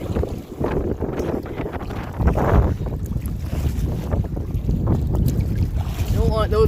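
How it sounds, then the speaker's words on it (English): Waves slapping and splashing against a small boat on Smoothwater Lake, with heavy wind rumble and buffeting close to the microphone, steady and choppy throughout, with a brief voice near the end. "The waves are bouncing all over the place."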